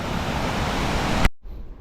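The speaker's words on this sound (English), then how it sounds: "I stopped to take a picture of this Lake Superior because look at the waves." Waves surging on Lake Superior after a rainy, windy night, a loud continuous broadband roar that cuts off abruptly near the end, leaving faint wind.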